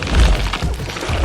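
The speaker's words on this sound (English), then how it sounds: "how about a grenade? You like grenades?" A grenade blast in The Sinking City video game, a loud, low booming burst with a rumbling, crashing tail filling the short moment.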